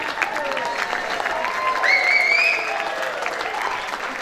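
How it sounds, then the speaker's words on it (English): A crowd at a gala dinner stands and gives a big round of applause, steady clapping throughout with a few whistles and cheers rising briefly in the middle. "big round of applause"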